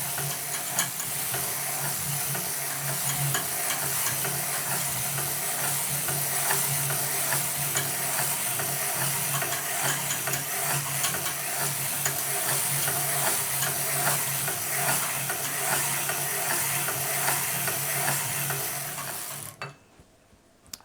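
A 1908 Edwardian circular sock knitting machine is cranked through rows, making a continuous close ratcheting clatter of needles and gears for about nineteen seconds before stopping abruptly.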